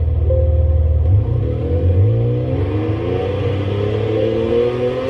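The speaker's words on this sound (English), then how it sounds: "So you can pick all kinds of different sounds for your car." A toy car's revving engine sound effect rumbles and climbs in pitch, a loud, continuous motor drone with rising whine, no talking.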